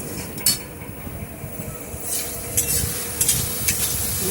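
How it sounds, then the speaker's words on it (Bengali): Four or five slit green chillies fry in a pan, a sizzle running beneath a spoon that scrapes and clatters against the metal in irregular strokes. "ভালো করে আমি একটু লাল লাল করে ভেজে নেব"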